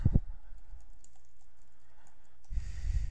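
Keys on a computer keyboard clatter as a folder name is typed, a quick burst of taps at the start, a soft quiet run of light presses, then a louder cluster of keystrokes at the end.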